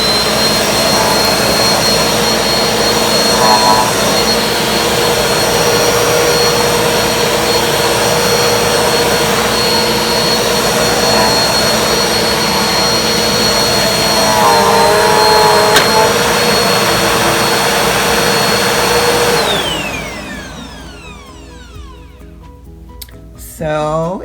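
A Bissell Powerforce Helix Turbo upright vacuum cleaner runs with a loud, steady whine and roar, then spins down and falls quiet near the end.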